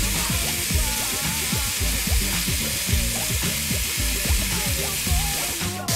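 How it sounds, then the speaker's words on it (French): Beef chunks browning in a cast-iron cocotte for boeuf bourguignon, a loud dense sizzle with fat crackling and bubbling steadily throughout, close and with no voices. "retirez le mélange de la cocotte pour y faire dorer la viande"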